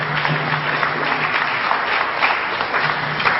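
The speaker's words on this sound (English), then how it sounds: "And give his brother a round of applause." An audience claps in a steady, dense round of applause at a lecture on Africans in early Europe, sustained throughout at fairly close range with no talk over it.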